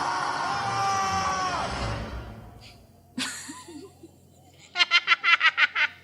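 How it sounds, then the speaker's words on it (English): Several people scream in bursts, first a long loud cry, then a sharp shout, and finally a rapid string of about seven short yelps close together near the end. "So, anyone want to scream some more?"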